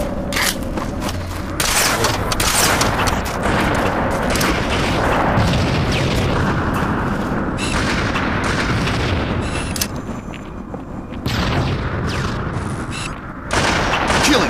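Rocket explosions and heavy gunfire in Halo 2 team sniper multiplayer, dense repeated booms and blasts, loud and close, almost continuous throughout.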